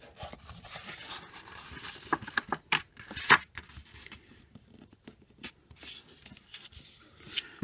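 Fold lines scored into paper for a small handmade portfolio, a series of short scratchy strokes and light taps up close, uneven in rhythm and fairly quiet, with no talking.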